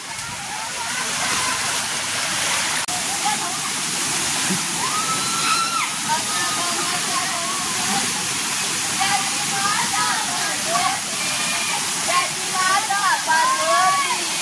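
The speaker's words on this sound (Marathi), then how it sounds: "समोर केवढा मोठा धबधबा आहे, वरती पुरी चढलेला आहे धबधब्यावरती।" A large waterfall at Jali, roaring with a broad, constant rush of falling water as people talk and call out over it nearby.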